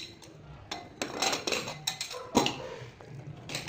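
Metal clinks and clacks as a pressure cooker lid is fitted and closed over tomato bath, several sharp close knocks in an irregular rhythm.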